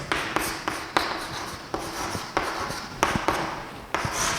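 Chalk or marker scratching across a board while someone works out an integral, a steady run of strokes broken by sharp taps at each new stroke, close and clear with no talk.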